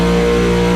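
Race car engine in a racing video game, holding a steady loud drone with dense stacked harmonics and no revving swells, alone for under a second.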